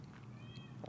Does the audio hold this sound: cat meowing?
yes